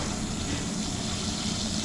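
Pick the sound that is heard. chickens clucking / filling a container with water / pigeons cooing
filling a container with water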